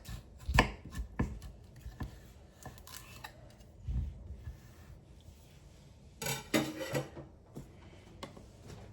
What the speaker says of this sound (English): So we're cutting them in half lengthwise.